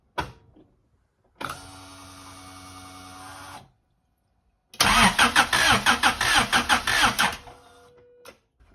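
Turbocharged Honda Civic EG with a D16Z6 engine: a first stretch of starter cranking, a pause, then a loud cranking burst with uneven sputtering firing pulses that die away, close up and without speech.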